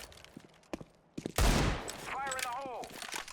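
Gunfire in the video game CS:GO shot through a wall: a loud burst of rapid shots erupts after a quiet stretch, followed by sustained game noise with a voice talking over it.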